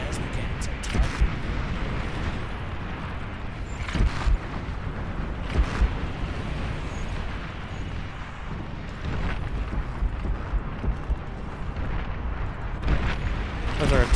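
Atomic bombers unleash explosions in the real-time strategy game Beyond All Reason: a dense, continuous rumbling barrage with heavy booming bursts rising out of it every few seconds, loud and sustained throughout.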